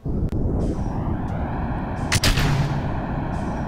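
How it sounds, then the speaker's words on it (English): Rocket launch in Kerbal Space Program: a loud, steady broadband engine roar fills the whole clip without a break, joined by a sharp burst partway through, with no talking over it. "It's a fairly smooth launch."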